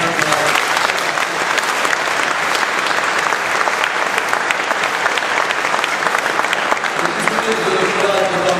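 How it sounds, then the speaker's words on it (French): Sustained applause from a large audience at a 2013 New Year's ceremony presenting medals and awards, honoring a jury member of the Maria Caniglia international competition in Italy; steady, dense clapping throughout with no pauses. "On peut l'applaudir, je pense."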